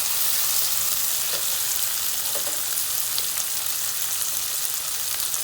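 Onions softening in a pan for an aloo shimla mirch sabzi, giving a steady, even frying hiss throughout with a few faint stirring ticks, close and continuous with no talk.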